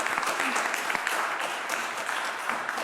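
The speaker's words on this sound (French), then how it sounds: "je vous propose pour commencer qu'on applaudisse nos intervenants et intervenantes" An audience at an early-childhood research colloquium round table applauds the speakers, a dense, steady clapping that holds at an even level from start to finish.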